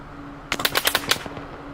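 A rapid automatic burst of gunfire in ARMA Reforger, about a dozen sharp shots fired in under a second, loud and close, then a brief fading tail.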